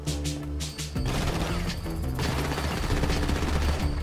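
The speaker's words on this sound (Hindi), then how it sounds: "कहां से चल रही हैं गोलियां?" Gunfire in the GTA V video game, with dense bursts of rapid automatic shots and heavy impacts going on almost without a break, loud and close.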